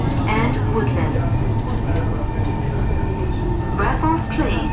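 A Singapore MRT subway train runs underground, its low rumble and rolling hum steady throughout, with a recorded platform announcement in a clear voice over the train noise.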